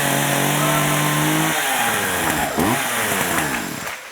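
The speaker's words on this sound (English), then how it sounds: "And a chainsaw." A chainsaw runs nearby with a loud, buzzing engine drone that holds steady, then wavers and revs up and down before fading slightly at the end.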